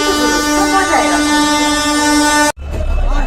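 A loud, steady droning tone like a train horn or rail machinery sounds for a few seconds, cuts off abruptly, then a rumbling train noise follows, in Kolkata.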